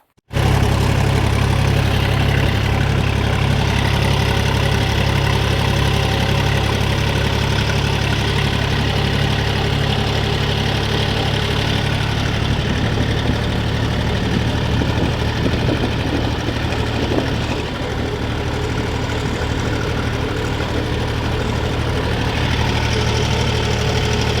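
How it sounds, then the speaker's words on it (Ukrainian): A Kentavr 244SX mini tractor engine starts and runs at a steady idle, a loud, close diesel rumble with a constant knocking throb that holds evenly for over twenty seconds. "І ось такий трактор Кентавр 244 SX."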